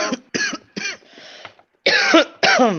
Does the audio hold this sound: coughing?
yes